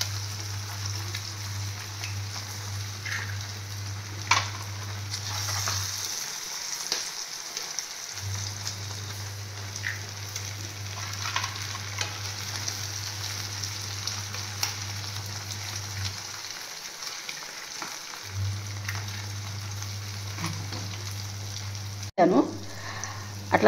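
Beaten eggs fry in a pan for an omelette, giving a steady close sizzle with faint crackles and a constant low hum that drops out twice, ending in a brief clatter.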